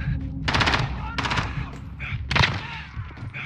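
Machine gun fire in the Modern Warfare campaign, two or three loud rapid bursts of automatic shots spaced about a second apart, close and crisp, over a quieter background of game ambience.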